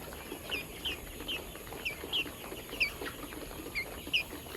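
A native country chicken clucks in short, fairly regular bursts, faint and close by, against a quiet background.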